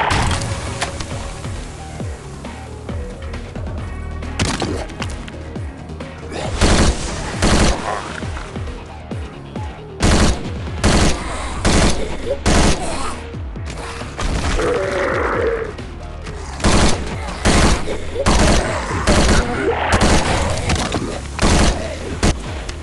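Dense gunfire from the mobile zombie shooter game Zombie State: Roguelike FPS, with loud repeated bursts of rapid shots and thuds over a steady game background, growing more intense in the second half.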